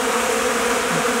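Honey bees buzzing in a loud, steady, close drone with no pauses and no other sounds over it.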